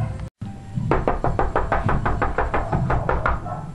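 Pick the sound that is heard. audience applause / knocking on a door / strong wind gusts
knocking on a door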